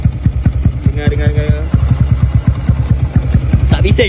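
Yamaha LC135 V6 motorcycle engine idling steadily up close, a regular rapid low putter pulsing throughout with a brief light clatter near the end.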